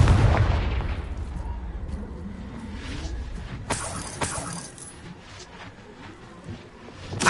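Confringo fire spell blasts in the Hogwarts Legacy video game: a muffled rumbling opening followed by a couple of sharp, cracking explosive bursts midway, then fading debris-like noise.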